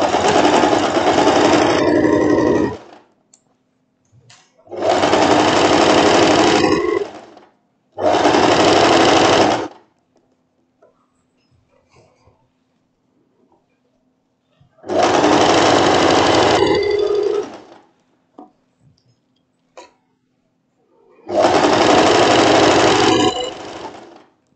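A sewing machine stitches an elastic casing on a floral tricoline-with-elastane wrap dress, running in five loud bursts of steady whirring separated by quiet pauses, with no talk.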